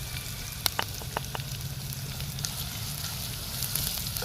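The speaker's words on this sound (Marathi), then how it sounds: "कांदा आपल्याला थोड्या वेळासाठी परतून घ्यायचा गोल्डन ब्राऊन होईपर्यंत" Chopped onion sautéing in a clay pot toward golden brown, giving a continuous close crackling sizzle dotted with sharp little pops, with no one speaking.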